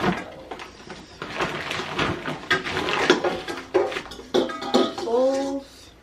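Bowls being handled and set down, giving a run of close clinks, clatters and rattles with a brief ringing tone near the end, no voices.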